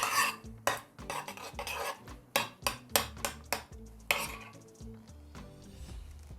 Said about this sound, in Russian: Немного соевого соуса и горчицу. И все хорошо перемешать.